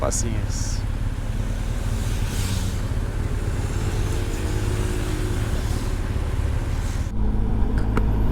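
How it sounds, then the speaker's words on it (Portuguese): Car traffic leaving Belo Horizonte on a holiday weekend, heard from inside a vehicle as a steady engine and road rumble with passing cars, loud and continuous, with a person talking over it. "Olha o movimento de carro saindo de Belo Horizonte, gente."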